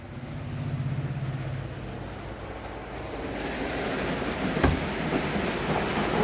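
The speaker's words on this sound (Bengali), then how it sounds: "এই দেখো কত বৃষ্টি পড়ছে তো" Heavy rain pours outside a home balcony, a dense, steady roar that swells louder partway through, with a faint low tone early on and no speech.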